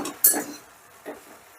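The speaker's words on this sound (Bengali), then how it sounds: "মোট 7 মিনিট বাদে ঢাকাটা তুলে নিলাম।" A metal lid knocks and clinks as it is lifted off a cooking pot of cabbage, one bright clank followed by a softer tap a moment later, close and alone.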